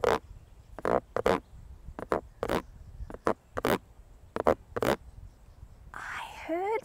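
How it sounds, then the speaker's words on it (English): A wooden spoon scrapes an old plastic meat tray in a string of short, rasping strokes in uneven rhythm, ending in a longer, higher, squeakier scrape; the sound is close and fairly loud. "I am making music today with an old meat tray and a wooden spoon."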